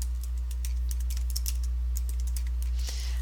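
Keys clatter on a computer keyboard in short, irregular bursts of typing against a steady low hum, close and moderately loud, while text is entered into a geodatabase attribute field.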